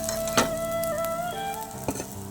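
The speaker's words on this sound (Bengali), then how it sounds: "আমি খুব ভালোভাবে আবারও নেড়ে চেড়ে ভেজে নেবো" Fish filling mixed with grated potato frying in a pan as it is stirred, a steady close sizzle broken by two sharp scrapes of the spatula, with a faint tonal hum underneath and no talking.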